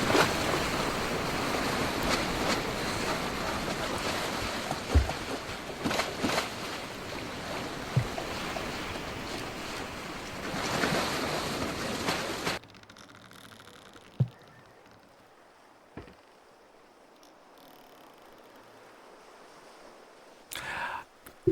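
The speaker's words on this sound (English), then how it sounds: "we do have splashing on the bow" Water splashing and surging against the bow of a boat in a video game, a loud broadband wash of surf that cuts off abruptly midway, leaving near-silence with a few faint thumps and a brief burst of splash at the end.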